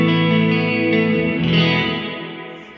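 Electric guitar played through a Baby Audio Crystalline algorithmic reverb set to a 50% wet mix, sustained chords swelling and washing into a long, shimmering, chorus-tinged tail that slowly fades, heard alone without voices.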